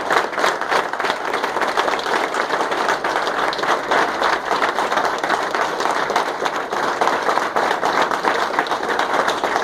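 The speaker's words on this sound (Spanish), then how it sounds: "¿Cuántos podemos darle un aplauso al Señor?" A church congregation at a men's meeting claps steadily and loudly throughout, dense continuous applause with no voices on top.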